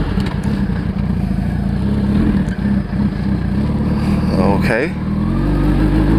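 A motorcycle idles and rides through a quiet residential street or parking lot, its steady engine note dropping as it slows to brake near the end, with a single brief word spoken over it.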